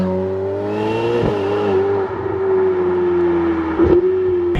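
A Ferrari 488 Pista's engine revs loudly and close, its pitch rising in a steady climb and then holding at a sustained high drone, with brief bumps in the note between rises. The sound plays alone, with no talk over it.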